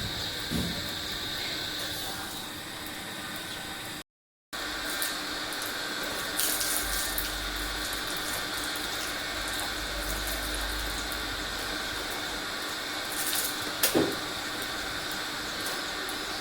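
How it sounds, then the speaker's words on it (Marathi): Water runs steadily from a tap in a continuous hiss, with a brief dropout and a few clinks and bumps nearby. "इकडं पाणी पण चालू झाला"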